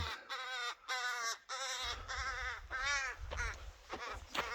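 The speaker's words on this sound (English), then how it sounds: "So this crow is pissed." A crow calls repeatedly near its nest in the South Dakota Badlands, giving harsh, agitated caws in a rapid series that sound fairly close, with a low rumble underneath.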